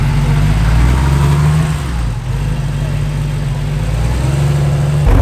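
A Porsche Carrera idles close by, a steady low engine rumble that holds for several seconds with a slight dip in the middle, and no talk over it.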